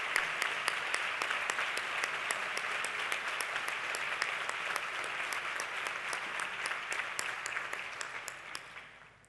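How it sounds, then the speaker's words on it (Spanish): Strong, steady audience applause fills the hall at the 2017 Jerez Educa educational excellence awards gala, dense clapping with sharp individual claps throughout before fading out at the end. "les voy a pedir un fuerte aplauso para todos los que hacemos Jerez Educa"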